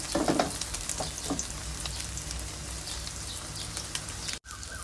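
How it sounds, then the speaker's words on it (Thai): A Thai omelette with naem (fermented pork) and basil frying in hot oil, a steady loud close sizzle and crackle with a few soft spatula touches, cut briefly near the end. "เจียวให้เหลืองสดๆเลยนะคะ"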